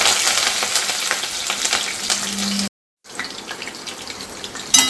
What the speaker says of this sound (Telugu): ఆయిల్ అయితే వేసుకుందాం. ఫస్ట్ పచ్చిమిర్చి వేస్తున్నాను.